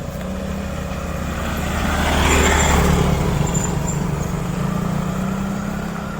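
A vehicle speeds along a road, its engine swelling to a peak midway and then easing off, heard from the roadside under a steady background hum.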